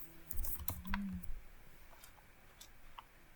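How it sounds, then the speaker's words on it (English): Command keys tapped on a computer keyboard, a short quiet burst of soft clicks near the start followed by a few scattered faint taps in a quiet room. "And I'm gonna type trim again."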